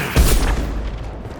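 A grenade explosion in the video game Mass Effect 2 lands as a single deep, loud boom whose rumble decays over about a second, with no talk over it.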